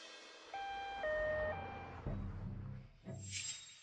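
An ambulance siren gives a few short stepped two-tone wails, then fades into a low rumble of traffic and a brief hiss, moderately loud and heard alone.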